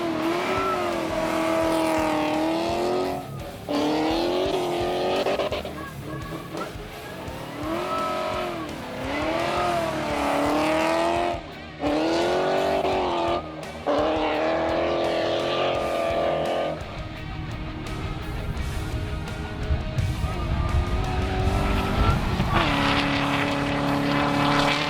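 A supercharged twin-turbo V8 Jeep roars hard down a standing half mile, the engine climbing through gears with repeated rising revs and brief shift breaks, loud and close throughout, building toward a sustained high-speed howl.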